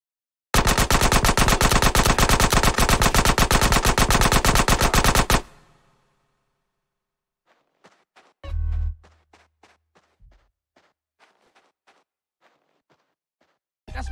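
Covering gunfire in GTA San Andreas: a long, loud, rapid automatic burst of about five seconds cuts off abruptly. Quiet scattered footsteps and small clicks follow, with one heavy thump in the middle and another hit at the very end.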